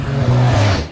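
A Koenigsegg Regera supercar's engine revs loudly up close, a brief deep roar rising and falling in pitch in one short burst.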